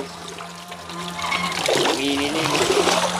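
Water from a fish-holding container with guppies is poured onto garden soil for planting, a splashing, trickling pour that swells midway, over a low steady hum.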